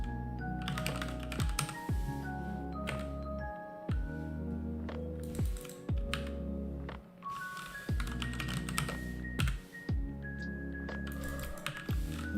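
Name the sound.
typing on a computer keyboard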